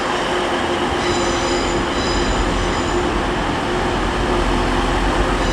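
Class 185 diesel unit at Leeds station, working a Manchester Piccadilly to Scarborough service, heard close as a steady rumbling drone with faint high wheel squeal tones layered over the top.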